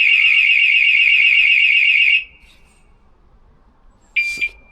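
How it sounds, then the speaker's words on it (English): A battery/solar-powered intruder detection pod's alarm shrills loudly and piercingly for about two seconds, then cuts off; after a quiet pause, two short beeps sound. "you can see the alarms coming through. The alarm's triggered."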